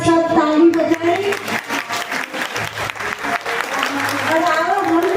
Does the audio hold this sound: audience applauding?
yes